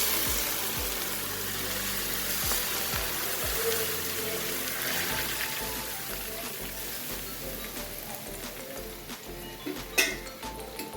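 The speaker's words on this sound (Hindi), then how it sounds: "ये ऑयल का तड़का लग गया।" Hot oil tempering poured over homemade pickle in a kitchen, giving a steady dense sizzle and crackle that runs throughout, moderately loud and close, with faint voice sounds underneath.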